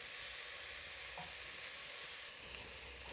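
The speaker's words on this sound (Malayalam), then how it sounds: "ഇനി നമുക്കിതൊന്ന് ഇളക്കി കൊടുക്കാം." Crushed garlic, ginger and tomato sizzle in hot oil in a pan for mutton curry, a steady, close frying hiss with soft stirring throughout and no voices.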